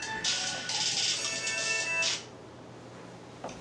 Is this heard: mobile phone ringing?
yes